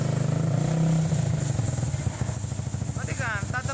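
A Honda Sonic 150 motorcycle engine running after a starter dynamo repair, a close, loud, pulsing idle that sputters and changes pitch, with people talking over it toward the end.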